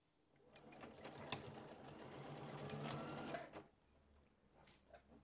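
A sewing machine stitches elastic into a tiered skirt, running in a steady, close whir for a few seconds before stopping, followed by faint clicks and handling.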